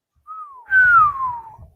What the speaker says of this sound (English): did you just whistle at the same time I did?